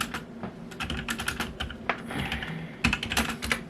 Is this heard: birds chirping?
no